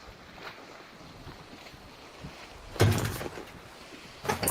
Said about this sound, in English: Is the boat moving?